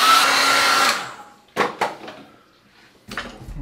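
A hair dryer blows on a freshly painted watercolour with a loud, steady whirring roar and motor whine for about a second before it cuts off and winds down, followed by a few sharp knocks and clicks as things are handled nearby.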